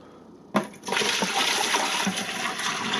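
Water pours steadily into a container while making homemade apple wine, a continuous splashing gush starting abruptly after a brief quiet moment and running to the end.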